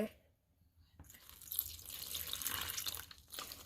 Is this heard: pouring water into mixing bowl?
yes